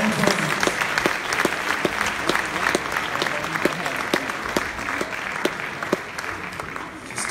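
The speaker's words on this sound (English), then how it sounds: "come on, keep clapping" Sustained applause from an audience at a Martin Luther King Jr. remembrance ceremony, a dense steady wash of many hands clapping with a few sharper individual claps standing out, continuous for the whole stretch.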